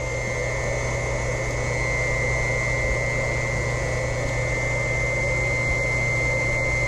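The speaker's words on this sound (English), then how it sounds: "Hopefully that pump's okay. Pushing fluid this cold." Pump pushing ice-cold glycol through a heated driveway snowmelt system, making a steady close mechanical hum with a constant whine and no changes in level throughout.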